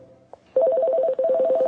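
On a call-in phone line for a Gujarati advice show, a soft click is followed by an outgoing telephone ring tone: a loud, buzzy, pulsing tone heard near and alone, with one brief gap between bursts.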